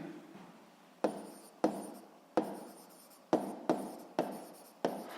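Pen strokes writing out a proportion for a physics exercise, heard as a series of about eight sharp, close scratching bursts in an irregular rhythm, each trailing off, with no talk.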